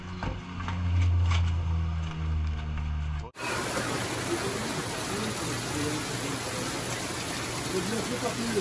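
Rain falling during a bike ride in the rain and mud, a dense steady hiss of downpour filling the second half after an abrupt cut from a lower, rumbling stretch of ambient noise.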